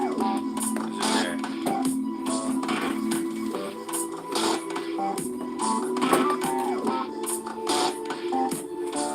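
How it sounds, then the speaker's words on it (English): Printer running a photo print, steady mechanical whirring with tonal motor hums and repeated shuffling, scraping passes of the print head, close and continuous. "Printing that Japan photo"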